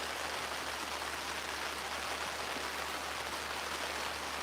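Steady rain falls outdoors during a fishing trip near a mountain range, a constant, even hiss of drops with no pauses and a low hum beneath.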